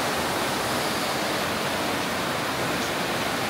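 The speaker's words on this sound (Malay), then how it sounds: "Air laju." Swollen rainy-season river water rushes near a waterfall at a resort in the Malaysian highlands, making a dense, unbroken roar that is loud and steady, with no voices over it.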